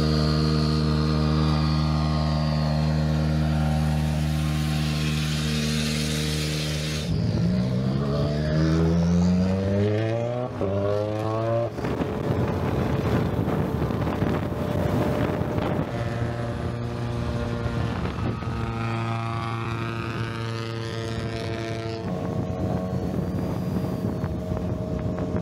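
M-Sport Ford Rally1 rally cars heading toward the opening stage, their engines droning and rising and falling in pitch through repeated revs and gear changes, steady and fairly close with no talk.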